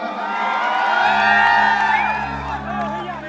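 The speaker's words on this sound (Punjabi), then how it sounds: "ਇੱਕ ਵਾਰ ਜੈਸਮੀਨ ਦੇ ਨਾਂ ਤੇ ਜ਼ੋਰਦਾਰ ਤਾੜੀਆਂ" A crowd gathered for a Punjabi film promotion in Jalandhar whoops and cheers loudly for Jasmine, a dense burst of shouting voices swelling and then easing, with a sustained low tone running underneath.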